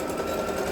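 A sewing machine back stitches on a Dollar Tree drawstring backpack in a short, steady whirring burst of rapid stitching, close and moderately quiet.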